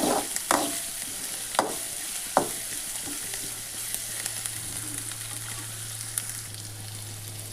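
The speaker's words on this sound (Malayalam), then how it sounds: "ചട്ടിയിൽ വെളിച്ചെണ്ണ ഒഴിച്ച് കൊടുത്തിട്ടുണ്ട്. എന്നിട്ട് അതിലേക്ക് സവാള കഷ്ണം വെട്ടിയിട്ട് കൊടുക്കുക." Onion and green chilli fry in coconut oil in a pan, a soft continuous sizzle with several sharp clinks and scrapes of stirring, heard close and quiet with no talking.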